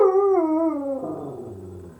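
A pet dog howls loudly in a long, wavering tone for about a second, then trails off into softer whimpering whines, close to the recorder with no talking.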